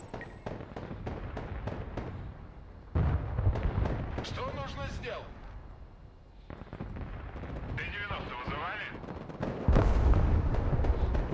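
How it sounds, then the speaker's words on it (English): Artillery booms in the video game Broken Arrow, a run of heavy low thuds and rumbling blasts spread across the clip, with crackling impacts and whistling shells in between. "More artillery."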